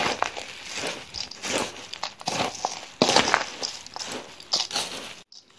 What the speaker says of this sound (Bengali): এবার ঝালমুড়ির সঙ্গে ভালো করে মিশিয়ে নেব।